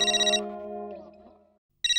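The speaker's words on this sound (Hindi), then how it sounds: "ओह, जेठालाल का फोन" A telephone ringtone from a TV comedy household scene plays loud and close in two bursts, a sustained electronic ring that fades and then starts again after a short gap, with no talk over it.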